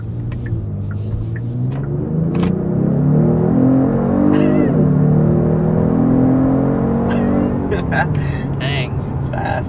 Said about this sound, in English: making them both accelerate to 60 very briskly